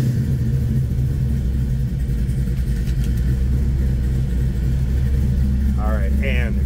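Engine of a 1965 Chevrolet C10 pickup running steadily, a loud, constant low rumble that holds throughout, with a brief stretch of speech near the end.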